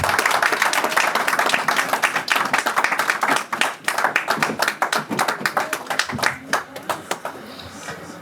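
A church congregation claps and cheers during a Sunday service, a dense ongoing burst of hand claps that thins toward the end, with voices calling out among them.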